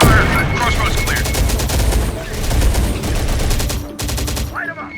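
Sustained automatic gunfire from a firefight in the Terminator: Dark Fate – Defiance game, dense rapid bursts layered with booms and battle noise, loud and continuous throughout with brief dips.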